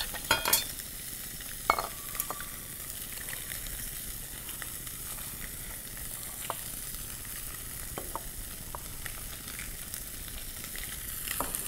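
Chicken skin sears and crackles in a hot pan for a rustic chicken risotto, a steady dense sizzle with scattered sharp pops and a few utensil clicks, close by and continuous.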